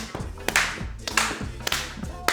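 Sharp hand claps during a dance exercise class, roughly four loud, evenly spaced claps in a steady rhythm over background music.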